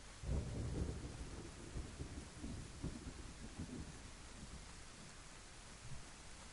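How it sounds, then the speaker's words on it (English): Heavy rain hisses steadily in the DayZ game world, with deep thunder rumbling in the first second and lighter rolls following, at moderate volume with no voices. "This is constant bloody rain, man."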